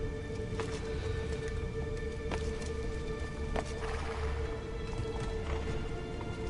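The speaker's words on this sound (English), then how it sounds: "Alright, that sounded like a horse." Horse hooves clip-clop in the Assassin's Creed 2 video game, a steady run of hoofbeats within a dense game soundscape with a low rumble and a few sharp accents.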